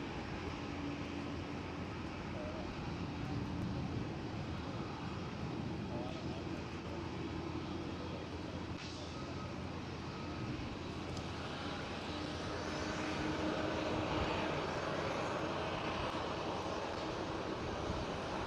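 An Air China Cargo Boeing 747 freighter, a steady, fairly faint jet engine drone that continues with little change, with faint talk beneath it.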